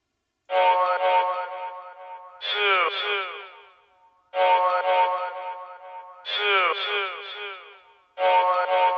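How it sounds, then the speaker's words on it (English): A chopped chorus sample from a hip-hop song, layered with echo and delay, loops in four loud, evenly spaced vocal bursts, each section repeating with a smeared, doubled tail. "I took the plug part off it, chopped it, and then I put a little echo in it and a little delay double up on there"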